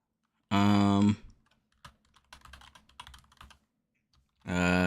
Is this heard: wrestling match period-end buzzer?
no